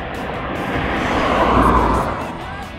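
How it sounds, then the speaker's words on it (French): A tractor engine passes on a roadside with a steady, broad low rumble that swells to its loudest midway and then eases off, close by and continuous throughout. "Tu vois le bruit du tracteur"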